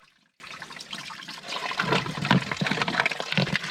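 Water splashes and gurgles into a container as it fills outdoors along a rail trail, starting abruptly and growing fuller and louder, with no speech.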